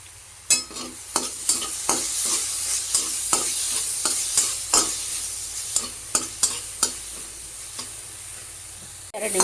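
Soaked corn kernels fried in a little oil in a pan for a corn chaat, with a steady sizzle and repeated sharp scraping strokes of a spoon stirring at an even rhythm.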